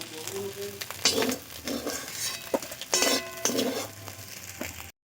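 Fried freshwater snails (gugli) are lifted out of a frying pan, with a metal spoon clinking and scraping against the pan in several bursts over a low sizzle of hot oil.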